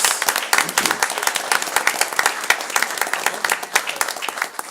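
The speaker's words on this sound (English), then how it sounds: "How about a big hand for Vanessa Flores?" Audience at a school board meeting applauds a student pianist, a steady crackle of many hands clapping at close range, dense and even throughout with no voices rising above it.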